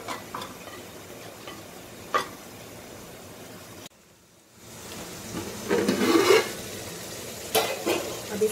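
Leftover chicken masala being stirred into korma in a pan while cooking barbecue chicken biryani, with scraping, light clinks of a spoon against the pot and a soft sizzle, close and steady with no talking.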